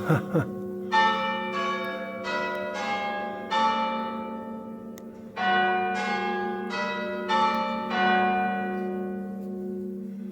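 Norwich Cathedral's bells ring out on the hour, a series of loud, resonant strikes in an uneven sequence, each blooming and decaying over a sustained low hum.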